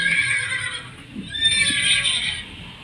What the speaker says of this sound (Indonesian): seperti itu ya teman-teman, suara kuda